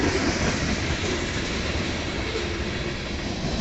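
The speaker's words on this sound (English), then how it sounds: "Here comes the other train, guys." A train rolls past on the main line in Battle Creek, Michigan, a loud, continuous rumbling roar with clattering wheels that stays close and steady from start to finish, without speech.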